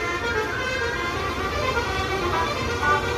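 A coach pulls out of Terminal Barisolo in Ranah Minang at the busy post-Lebaran return, engine rumbling steadily up close amid a noisy crowded backdrop with faint horn toots and distant voices.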